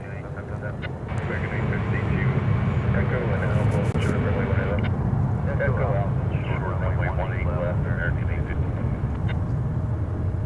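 A UPS Boeing 757 taxiing at DFW Airport across a taxiway bridge toward the east side, a steady engine rumble and whine that holds throughout.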